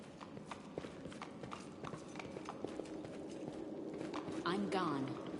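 Horse hooves clip-clop at a steady walking pace in the fantasy role-playing game Pathfinder: Wrath of the Righteous, moderately close and layered under ongoing character speech and game ambience.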